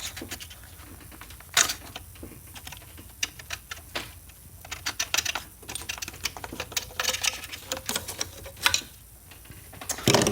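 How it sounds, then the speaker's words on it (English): Breather hoses being pulled off the PCV system of an Audi B7 with the 2.0T FSI engine: close, irregular plastic clicks, snaps and rustling handling noises in quick bursts, without speech. "the first things you want to do is you want to just take these little breather hoses out"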